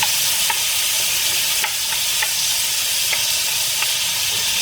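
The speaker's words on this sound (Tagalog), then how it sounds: "Ayan, i-mix na natin yung kamatis. Ayan. Ayan. Ayan, lutuin lang natin ng maigi yung kamatis" Tomatoes are stirred and cooked in a hot pan, with a loud continuous sizzle and hiss close by and periodic light clinks of the spoon against the pan.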